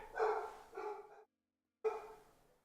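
A dog indoors barks three times, two quick loud barks followed by a pause and a third bark, fairly close and clear with no talk.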